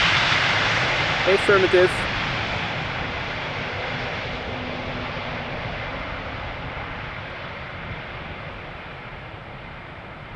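A Boeing 777 airliner engine at Schiphol Airport, preparing to take off from the center runway: a steady, broad, distant roar that slowly fades across the whole stretch, with a brief radio voice early on.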